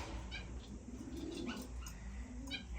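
Male Gouldian finches in an indoor bird room give soft, scattered chirps and peeps at moderate distance over a constant low hum.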